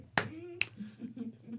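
Two sharp percussive cracks, a hand clap followed about half a second later by a finger snap, close and crisp, with a voice murmuring softly afterward.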